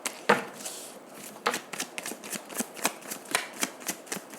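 A deck of tarot cards being shuffled by hand, with crisp riffling snaps and slaps repeating in a quick uneven rhythm, close and clear.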